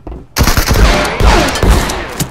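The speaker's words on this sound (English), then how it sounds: "Is that you that just shot?" Gunfire in a shooter game, a loud rapid burst of shots that starts abruptly and runs on with repeated cracks, close and dominant, with no talking.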